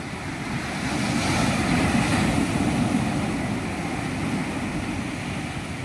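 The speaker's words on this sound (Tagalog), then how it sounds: "malaki pa man din ang alon dito" Big sea waves wash around a wooden outrigger boat in a continuous roar of surf and rushing water, rising and easing in broad swells, with wind buffeting the microphone.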